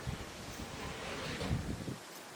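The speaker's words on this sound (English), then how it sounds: "So, it's windy." Steady wind buffeting a microphone, a continuous loud rushing roar with gusty swells and no voices.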